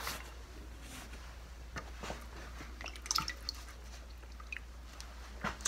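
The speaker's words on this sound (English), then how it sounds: "wet my rag." Water drips and squishes from a rag being wetted during chainsaw repair cleaning, faint irregular splats and trickles over a low steady hum, close and quiet.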